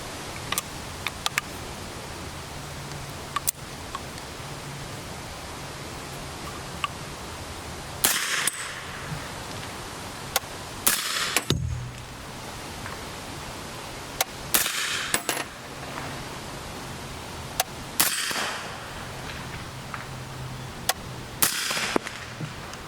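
A CMMG MKG Banshee .45 ACP fitted with a DefCan suppressor fires a series of sharp, muffled shots at uneven intervals outdoors, some in quick pairs, with quiet pauses and faint rustling between them.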